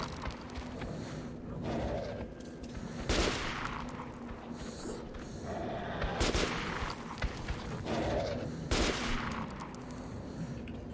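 Bursts of incendiary-round gunfire in Metro 2033, loud close shots landing in irregular clusters about every couple of seconds over a steady low game ambience, with no talk.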